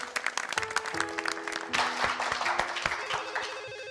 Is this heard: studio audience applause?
yes